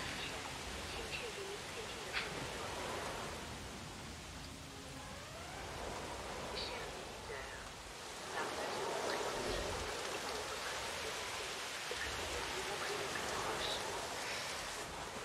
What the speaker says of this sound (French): il pleut, tous à l'abri.